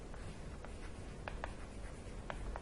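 Pen or marker writing on a board during an accounting lecture, a series of soft, quick scratchy strokes over steady background hiss, with no talk.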